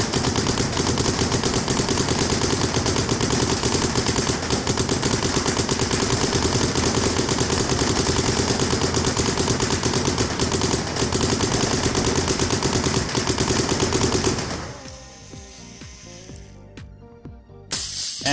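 A Planet Eclipse CS2 Pro electronic paintball marker fires a long, loud, rapid stream of shots for about fourteen seconds, a dense mechanical chatter with hiss, then stops abruptly, leaving quieter handling noise.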